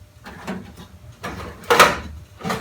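Metal drawers on a restored Guardian Power Products tool chest slide and knock shut several times in close succession, short scraping rolls ending in sharper clunks, with no talk.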